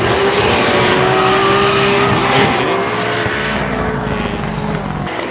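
Drift cars race downhill in a Formula Drift Japan round: a loud, continuous roar of high-revving engines with a rising and falling whine, joined by tire squeal, close and filling the whole stretch.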